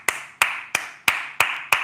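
Six sharp, evenly spaced hand claps close to the mic, about a third of a second apart, each crisp with a short ring, and no voices between them.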